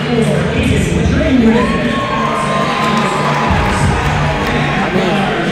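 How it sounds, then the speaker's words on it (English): A large crowd at a high school boys varsity basketball game roars and cheers loudly and continuously, with shouting voices and talk close by over the din. "there is a huge crowd tonight"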